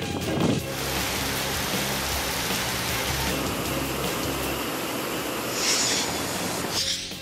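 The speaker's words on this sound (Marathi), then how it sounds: "नवी मुंबईमध्ये मुसळधार पावसानं हजेरी लावली।" Heavy monsoon rain pours down in Navi Mumbai as a dense, steady roar that holds at a loud, even level throughout, with no voices.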